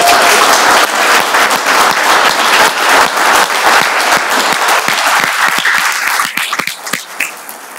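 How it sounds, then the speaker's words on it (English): A room at a city council meeting breaks into loud, close applause, a dense burst of clapping that thins out and trails off near the end. "Give him a round of applause"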